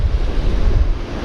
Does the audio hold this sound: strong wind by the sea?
yes